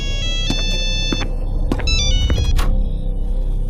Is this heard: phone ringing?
yes